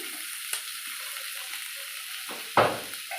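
Chicken pieces added to a pot for chicken soup set off a quiet, steady frying hiss, broken by a couple of sharp knocks of the pieces and a utensil landing in the pot.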